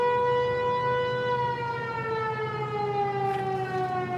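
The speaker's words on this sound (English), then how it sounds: "Tornado siren." A tornado siren wails steadily outdoors near a storefront during pressure washing on an overcast day, a sustained tonal drone with slowly shifting pitch and no talk over it.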